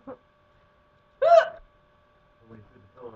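One sharp hiccup with a brief quick intake, clear and close, between soft bits of a voice nearby.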